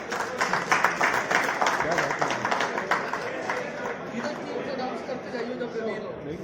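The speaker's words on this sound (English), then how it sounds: "So a huge round of applause for him" Audience applause at the inauguration of the Advocate Premier League futsal tournament, a crowd clapping loudly at first and then fading into murmuring chatter and voices.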